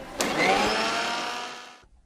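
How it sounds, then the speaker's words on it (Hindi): A mixer grinder grinding mustard seeds whirs loudly for about a second and a half, a dense grinding roar that starts abruptly and cuts off, leaving near silence. "राई के किछ दाना चाय वाला चम्मच से 2 चम्मच लो ले और एकरा सुखाले मिक्सी में पीस लिया।"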